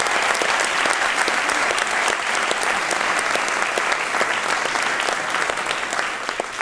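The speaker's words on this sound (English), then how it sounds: "Let's take a moment and give these students another round of applause" A school audience applauds student musicians at a State of Schools address, with loud, dense, sustained clapping that keeps going at an even level and fades slightly at the end.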